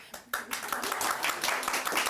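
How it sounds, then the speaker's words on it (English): A small studio audience claps enthusiastically, rapid overlapping hand claps building quickly and continuing steadily at close range. "Give yourself a round of applause."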